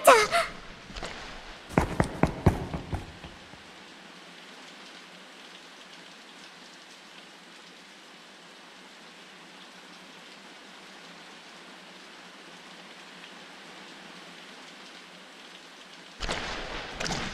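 Steady rain falls as a soft, even hiss for a long stretch in a Project Sekai story scene, with a few sharp clattering hits at the start and a louder burst near the end.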